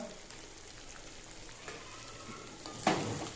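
Mutton with meat masala fries in a pan, making a faint, steady crackling sizzle, then a louder burst of scraping as it is stirred near the end.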